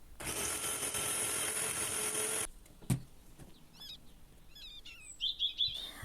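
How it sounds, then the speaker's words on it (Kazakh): A blender beats minced liver for liver cutlets in a loud steady whir lasting a little over two seconds, then cuts off, followed by a thump and bird chirps in the background. "жақсылап майдалап блендердің көмегімен ұрып аламыз"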